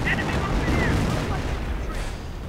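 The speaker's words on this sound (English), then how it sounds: "Artillery going in." Artillery fire in a real-time strategy war game, a continuous rumbling barrage of booms and blasts under a commentator's voice.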